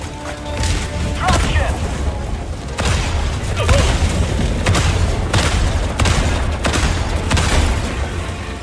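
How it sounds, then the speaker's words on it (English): Repeated autocannon shots hitting a Devastator in a sci-fi shooter game, a dense run of heavy booming impacts and crashes that continues steadily through a loud, busy battle mix. "I shot him in the eye with auto cannon."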